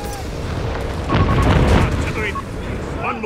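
Artillery shells explode in Company of Heroes 3, a heavy booming eruption that swells near the middle of a dense battle soundscape, with soldiers' voices calling out underneath.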